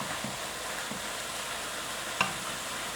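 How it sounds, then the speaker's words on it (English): Onions and tomatoes sweat in a pan with a quiet, steady sizzle, broken by a few soft taps of a utensil and one sharper clink, and no voices. "So you're going to let your onions, sweat it out."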